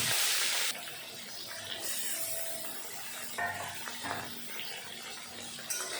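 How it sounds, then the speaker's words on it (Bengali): Marinated fish goes into hot mustard oil in a kadai, a loud hissing burst at first that settles into a steady close-up sizzle with occasional spatters and faint utensil sounds. "তেল গরম হয়ে গেল, এখন দিয়ে দেবো মেখে রাখা মাছ।"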